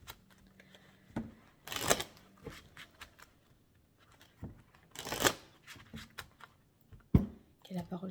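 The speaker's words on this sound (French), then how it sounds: "Et je vais tirer 5 cartes que je couplerai avec l'oracle," Oracle cards are shuffled and drawn by hand, making a few brief papery riffles and flicks, close and fairly quiet, separated by pauses, with a voice talking at times.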